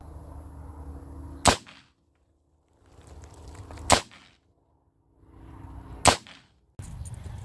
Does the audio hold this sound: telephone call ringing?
no